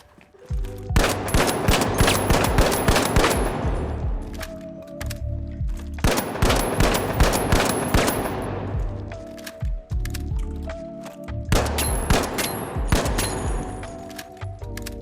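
LH1 semi-automatic rifle fired in the shooter game THE FINALS: three loud bursts of rapid, evenly spaced sharp shots, each lasting a few seconds and separated by brief pauses, close and clear with no talking.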